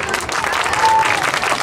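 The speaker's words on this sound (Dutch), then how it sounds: "Dankjewel, applaus." Schoolchildren and adults at a school sports-day opening clap loudly and energetically, a close, busy burst of applause with crowd murmur mixed in.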